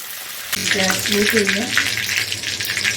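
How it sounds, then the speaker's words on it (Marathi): Curry leaves hit hot oil in a kadhai and sizzle loudly and at once, a steady close crackling hiss that continues over a faint voice. "आता आपण कढीपत्ता टाकून घेऊ इथे तेलामध्ये आपण दहा पंधरा कढीपत्त्याची पानं टाकली"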